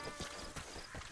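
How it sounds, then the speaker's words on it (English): Donkey hooves in Metal Gear Solid V: The Phantom Pain clip-clop in a quick, faint, uneven patter, a few soft hoofbeats over quiet game ambience. "Man, there's a lot of donkeys here."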